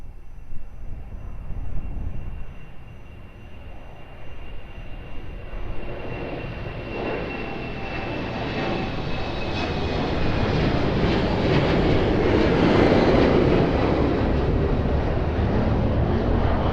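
A plane taking off at Lisbon Airport, its engine roar starting moderate and swelling into a loud, sustained broadband rush that holds steady to the end, with a faint whine above it.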